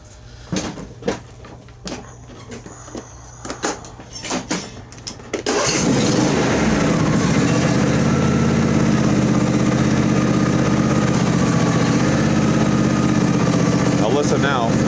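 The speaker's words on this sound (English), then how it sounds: "We'll get her fired up and show you." A few clicks and clunks, then a small Briggs and Stratton engine on a John Deere riding mower cranks and catches, settling into a loud, steady idle that runs on without stopping; the mower fails to shut off.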